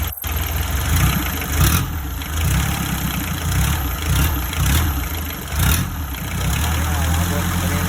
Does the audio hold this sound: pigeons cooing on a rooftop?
no